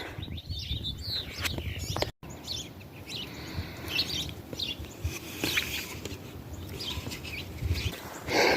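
Wild birds chirp in scattered, overlapping tweets at a feeder after a heavy snowfall, moderately near, over faint outdoor background noise with no talking.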